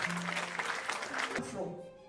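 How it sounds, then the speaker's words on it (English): A crowd claps in a steady burst of applause that fades out, with a voice speaking over it. "A hand of applause."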